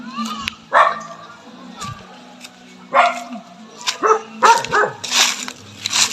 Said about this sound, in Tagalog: Napakadami aso.